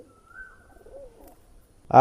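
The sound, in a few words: Pakistani pigeons cooing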